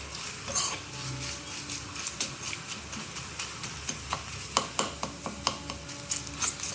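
Mustard seeds and curry leaves crackle and splutter in hot oil for a tomato kara chutney, giving a string of sharp pops and sizzles close by, mixed with clinks of a spoon against the pan.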